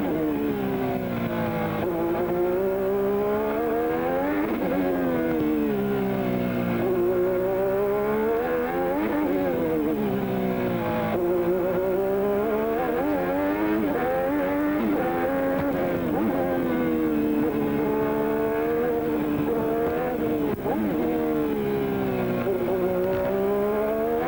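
A 1987 Formula One car at the Australian Grand Prix practice and qualifying in Adelaide, its high-pitched engine screaming loud and close, rising and falling repeatedly through gear changes and acceleration without talk.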